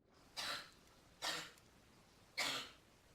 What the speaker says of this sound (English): Tori, that cough sounds awful.